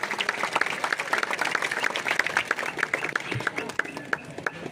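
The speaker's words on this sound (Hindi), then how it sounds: "जोरदार तालियां हो जाए इस योद्धा के लिए" An audience claps loudly and continuously for a war veteran at a Vijay Diwas honouring ceremony for ex-servicemen, a dense crowd applause with a faint voice briefly mixed in.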